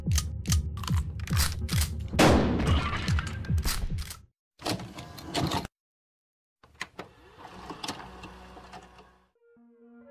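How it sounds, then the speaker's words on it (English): Shotgun shells click and slide into a gun in Buckshot Roulette, with a quick series of mechanical loading clacks followed by a slide and pause, then softer handling sounds. "One live round, two blanks. I insert the shots in an unknown order."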